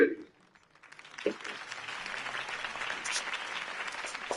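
Faint crowd applause follows a mayoral campaign speech by Harvey Dent at a city rally, rising after a short lull into a soft, sustained wash of clapping, heard distant and low.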